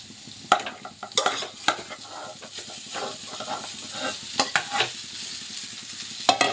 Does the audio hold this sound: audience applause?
no